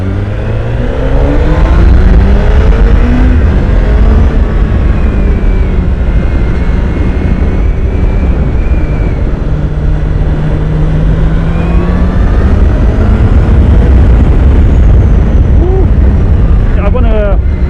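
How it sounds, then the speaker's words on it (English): A 2016 Honda CBR1000RR SP engine revs with a light throttle blip and sustained loud roar under wind noise while the bike rides, with rising and falling pitch throughout the stretch. "That's just pulling the throttle a tad makes it rev like that."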